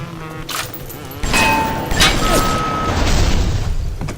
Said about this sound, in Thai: ระเบิดฮะ